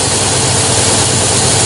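A chainsaw runs steadily in a carpenter's workshop during a 2023 horror film scene, a loud, continuous buzzing engine drone holding one level throughout with no pauses.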